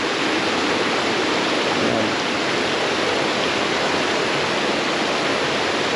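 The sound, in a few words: flowing water from the mountain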